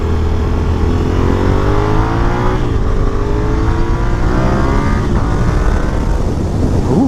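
A 2015 Yamaha FZ07/MT07 motorcycle engine revs hard while riding, rising and falling through gear changes with a gritty, loud tone close to the rider, continuous over several seconds.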